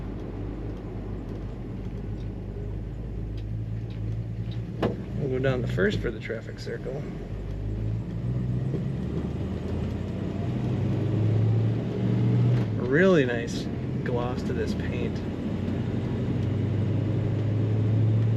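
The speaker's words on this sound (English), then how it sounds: "Great rumble coming out the exhaust." Low, steady exhaust rumble from a 1968 Chevrolet Chevelle Malibu being driven, heard from inside the car. It drones continuously beneath someone talking, with a brief swell partway through.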